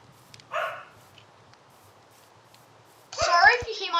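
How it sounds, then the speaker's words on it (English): A few dogs barking indoors, one short burst early on and a louder cluster of yips and barks near the end, set apart by quiet pauses. "Sorry if you hear my dogs in the background."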